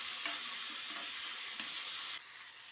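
Tomatoes and masala sizzle softly in a pan with a faint, steady frying hiss, stirred now and then with light scraping.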